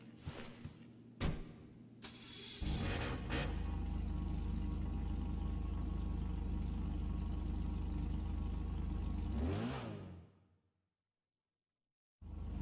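A Mazda Savanna, the Annis Savestra in GTA 5, sits under a loud, steady engine drone that holds for several seconds, swells into a brief rising rev near the end, then cuts to silence before a short burst returns.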